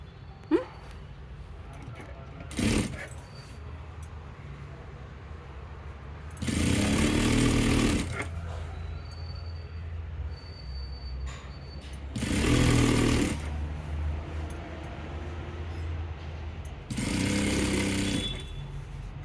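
A sewing machine stitches a one-inch cloth strip into a bag handle, running in three short mechanical bursts separated by quieter pauses with background room noise.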